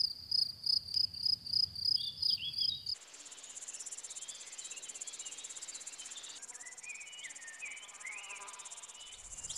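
Insects chirp in the warm forest steppe of Palava, first as rhythmic pulsed bursts, then as a dense continuous high trill of many crickets, steady and fairly close with no voices.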